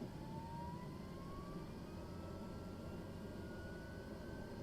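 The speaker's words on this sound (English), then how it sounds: "we're gonna do right ignition and engine start" Light aircraft piston engine running steadily after a right-ignition start, a constant loud broadband drone with a faint rising whine through the whole stretch, no voices.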